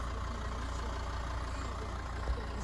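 A 2011 Volvo XC60 2.4 diesel engine idles steadily with a low, even rumble, close by and constant throughout.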